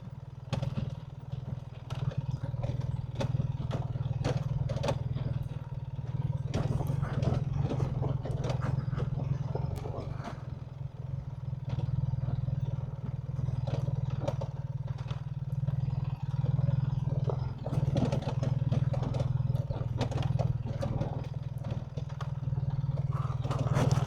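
BMW R 1300 GS Adventure motorcycle, a heavy 500-plus-pound adventure bike, rolling downhill off-road with a steady low engine drone under continuous clattering and scraping of gravel and suspension, loud and close throughout.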